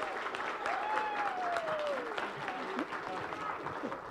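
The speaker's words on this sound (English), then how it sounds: "you can hear the applause out there in the ballroom" A ballroom crowd at a chess tournament applauds a newly crowned champion, a broad, sustained patter of many hands, with a faint whistle-like tone gliding through and a voice briefly audible.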